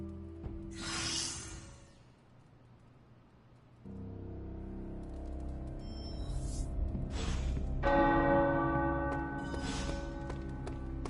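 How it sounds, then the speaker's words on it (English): Tower bells in a video game ring out in bursts, bright clanging tones that echo over a low steady hum, with pauses between peals. "The tower bells are ringing."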